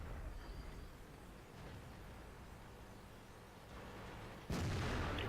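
A tank gun shot in World of Tanks, one sudden boom that cuts through a low steady background hum near the end.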